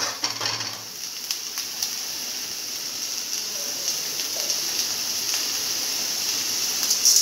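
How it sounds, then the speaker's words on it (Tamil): Onions frying in a pan for cauliflower and mushroom chops give off a steady, close sizzling hiss with faint crackles, continuous and even for several seconds with no talking. "ஆனியன் நல்லா கோல்டன் ப்ரௌனாக வரணும், அது வரைக்கும் அதை பொறுமையாக ஃப்ரை பண்ணி எடுக்கணும்"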